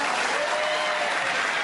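A studio audience applauds steadily and loudly for the whole stretch, a dense wash of clapping from a British television game show with no speech over it.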